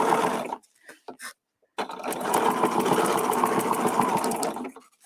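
A sewing machine stitching fabric in a stitch-and-flip quilting step, running loud and close in a short burst, stopping briefly, then humming steadily for several seconds before winding down.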